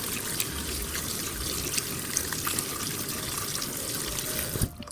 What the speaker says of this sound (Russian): И теперь мы капусту должны с вами промыть в проточной воде.